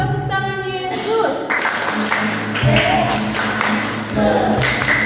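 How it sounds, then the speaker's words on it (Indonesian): A church congregation at a Sunday school service claps hands together, a loud, continuous patter of many palms mixed with voices and music filling the room. "Tepuk tangan Yesus."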